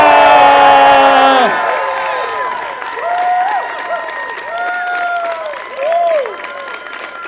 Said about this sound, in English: So I'm going to say that's a good warm-up for a really loud cheer and applause.